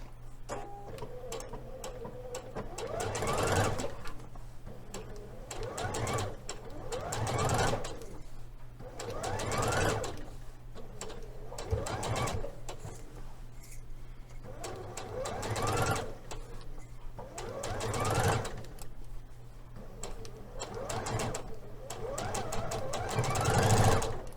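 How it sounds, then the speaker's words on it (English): Sewing machine running in repeated bursts while stitching a reinforcing row along the inside crotch curve of a Liberty London palazzo suit, each stitching run lasting a second or two with pauses between, steady and close. "we're going to stitch again the inside of the crotch, just on the curve"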